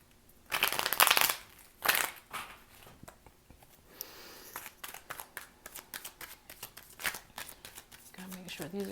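Close-up tarot cards being shuffled in repeated bursts, a loud flurry at first followed by a steady run of softer riffles and taps.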